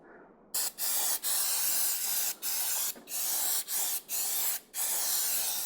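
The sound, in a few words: spraying brake cleaner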